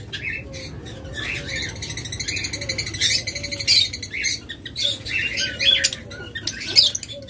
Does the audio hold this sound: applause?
no